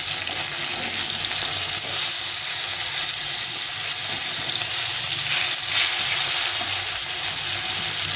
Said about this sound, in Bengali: মাছটা এক পাশে ভাজা হয়ে গেছে, এখন এটাকে উল্টে পাল্টে ভেজে নিতে হবে।